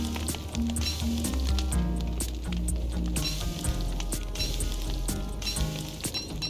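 Food sizzles and fries over a campfire in a survival video game, a steady crackling hiss layered with game music tones and repeated soft clicks, loud and continuous with no one talking.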